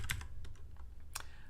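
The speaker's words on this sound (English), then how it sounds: "Too much typing otherwise." Quick bursts of keystrokes on a computer keyboard while coding a JavaScript tutorial, close and clear with no talking.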